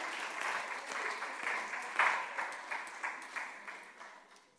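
A church congregation claps and applauds together during a worship service, a steady dense wash of handclaps with a swell in the middle before gradually fading out.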